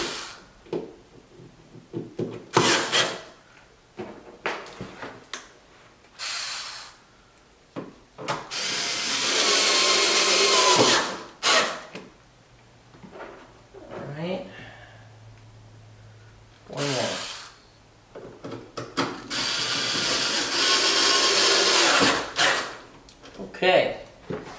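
A power tool drives screws while a C6 Corvette's C8-style headlights are fastened, giving short whirs and two long sustained bursts, with a person talking in the gaps between them.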